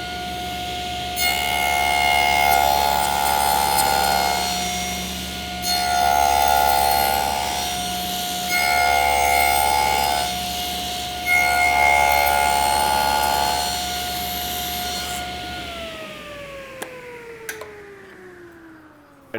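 A table saw cuts the ends of a wooden TV stand part guided by a miter gauge, the blade whining steadily through several passes in a row, rising and dipping with each cut before spinning down at the end.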